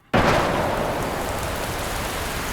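A storm sound effect of thunder, lightning and mighty wind bursts in suddenly and then holds as a steady, loud roar of rushing wind and rain-like noise with no pauses.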